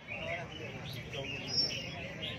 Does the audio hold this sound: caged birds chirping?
yes